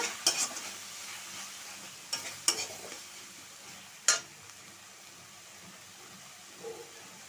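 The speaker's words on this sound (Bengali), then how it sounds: "এক চামচ ধনের গুঁড়ো এক চামচ হলুদ দিয়ে ভালো করে কষিয়ে নেব" Kohlrabi, potatoes and prawns are sautéed with coriander and turmeric powder under a soft, steady sizzle, broken by a few sharp scrapes and knocks of a spoon against the pan, with no talk.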